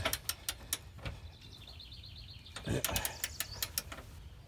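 Wrench tightening the frame mount bolts of a TorkLift no-drill, frame-mounted truck camper mount underneath a truck: sharp metallic clicks come in quick irregular bursts, with a brief chirping squeak partway through.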